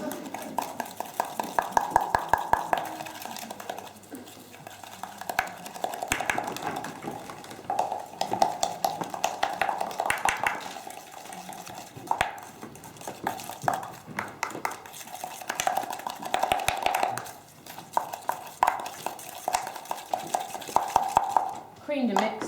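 Margarine and sugar being creamed in a mixing bowl, with a rhythmic scraping and tapping of a spoon against the bowl, close and steady, while a voice speaks intermittently over it.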